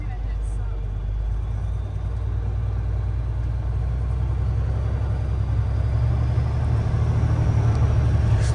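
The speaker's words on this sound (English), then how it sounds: "and then we'll work on shifting up some gears" A truck's diesel engine rumbles low and steady at close range, with the drone building slightly toward the end; a voice talks over it.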